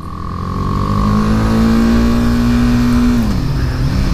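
A 2018 BMW G310R motorcycle engine holds a high, steady rev, loud and close, then the pitch drops as the throttle eases off.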